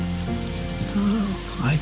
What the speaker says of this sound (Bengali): তার মধ্যে বৃষ্টি পড়ছে।